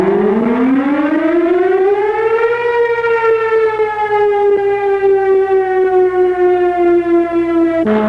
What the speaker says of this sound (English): That sound is the alarm calling volunteer firemen to their stations.